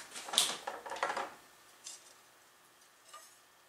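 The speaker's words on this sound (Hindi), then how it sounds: "मैं अब इसमें बेसन मिक्स करना शुरू करूँगी" Gram flour (besan) being mixed into cooled sugar syrup for patisa, heard as a few quick scraping and clinking stirs of a spoon against the pan, followed by quieter, sparse scrapes with pauses.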